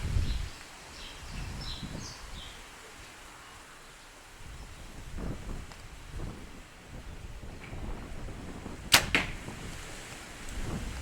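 An arrow loosed from a Hoyt Stratos 40 compound bow outdoors, a single sharp snap and thwack near the end amid quiet wind, rustling and faint birdsong.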